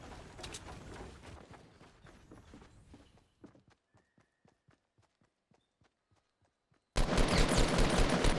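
Rapid gunfire in the Fortnite battle royale video game: a dense burst of shots at first, then a string of separate sharp cracks, before loud noise swells at the end.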